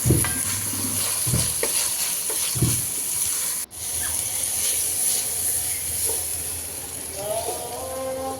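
Onion, tomato and spice masala for a gulsha fish curry stir-fried in a pot, a steady sizzle with repeated scraping stirs, close and continuous, with a brief break midway.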